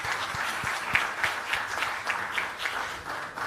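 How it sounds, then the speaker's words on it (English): A conference audience gives a sustained round of applause for its legacy partners at a diaspora launch event, steady dense clapping filling the room without a break. "Can we have a resounding round of applause for our legacy partners,"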